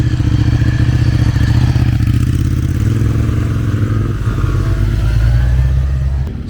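Motorcycles leave a Triumph bike night, a loud close engine drone with rumbling idle and revving that swells and fades as bikes pull away, no talk.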